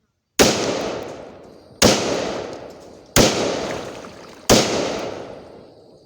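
Four loud, sharp gunshots fired one after another about 1.4 seconds apart, each cracking close by and trailing off in a long echoing decay outdoors.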